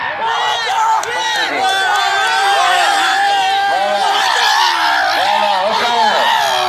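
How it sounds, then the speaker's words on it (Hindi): A loud crowd at a Pahalwan wrestling bout in Karachi whoops and cheers continuously, with shouting voices and a steady roar of clapping throughout. "वापसी के लिए ताली बजाओ जोर से"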